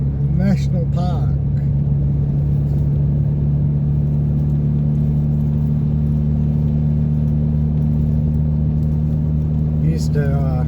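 Car driving along a winding road toward Mundaring Weir near Kalamunda, Western Australia, with a steady loud engine and road drone filling the clip while someone talks briefly at the start and end.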